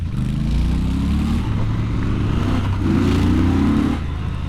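A Triumph Scrambler 1200 XE motorcycle engine roars steadily and loudly during a ride, with two rising surges of revving as it accelerates through the gears.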